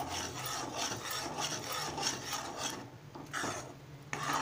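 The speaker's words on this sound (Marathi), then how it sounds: "आता हे असं सतत ढवळत राहायचं आपण।" A spoon scrapes and rubs continuously around a pan while Maharashtrian-style egg bhurji is stirred, making a steady close rasping texture with brief gaps near the end.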